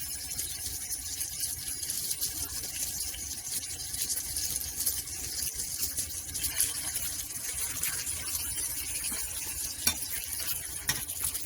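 Salmon chunks frying in oil in a pan, a steady dense sizzle that holds at an even level throughout with faint clinks of a utensil.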